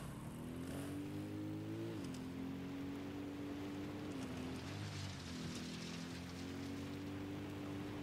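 Motorbike engine in Ghost Recon Wildlands, a steady droning hum with pitch shifts as it revs and eases, loud and continuous over a rushing, rain-like wash of game ambience.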